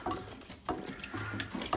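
Water trickles and splashes out of the expansion vessel of a Worcester Bosch boiler, a brief, faint, close flow with uneven gurgling pulses and no talk.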